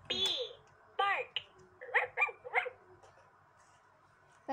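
A LeapFrog AlphaPup toy dog gives a series of short electronic barks and yips, several bursts in a row at moderate loudness, following a brief high-pitched synthesized voice.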